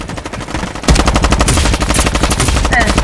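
Rapid automatic gunfire in the video game Bloxy For Frontlines, loud and close, with quieter shots followed by a sustained dense burst of rounds and a voice talking over part of it.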